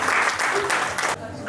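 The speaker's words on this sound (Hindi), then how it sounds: "तालियां हो जाए इनके लिए एक बार।" Brief burst of audience applause for a performance at a ladies' sangeet celebration, dense clapping that cuts off abruptly near the end.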